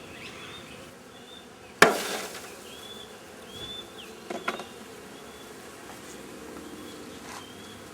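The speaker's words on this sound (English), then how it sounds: "we rile these bees all up" Honeybees swarm around an opened hive of drone brood, their steady buzz filling the air and rising in sharp bursts as individual bees fly close past, with a loud knock near the start.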